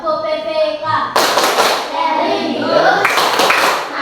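A classroom group of fourth-grade pupils does a rhythmic PPK clap chant, with bursts of loud sharp clapping in patterned beats mixed with children's voices and chanting.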